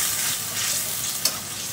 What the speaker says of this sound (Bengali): তো জিরা বাটাটা দিয়ে একটু নেড়ে চেড়ে মিশিয়ে নিলাম।